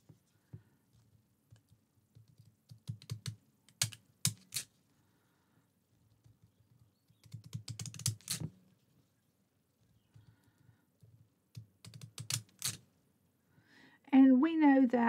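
Fiskars scissors cutting paper, several short bursts of snipping and rustling at close range, separated by quiet gaps, with a voice speaking at the end.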